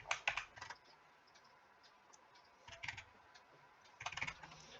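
A mobile number typed on a computer keyboard, three short bursts of quick close key clicks separated by pauses, quiet, no talk.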